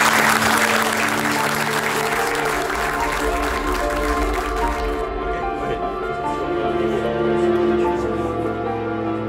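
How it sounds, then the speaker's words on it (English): Audience applause at a staff gathering for the Airbus A350 XWB aircraft program, a steady dense clapping wash that thins out midway while a low droning hum continues underneath. "I propose to applaud you guys."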